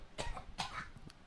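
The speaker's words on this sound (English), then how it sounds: "Are you coughing?" A person coughs two or three times in quick succession, short and fairly close but quiet, with no talk around it.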